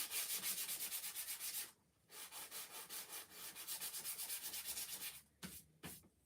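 Steady back-and-forth scratchy rubbing of hand sanding on a wooden stocking, in rhythmic strokes with a brief pause partway through.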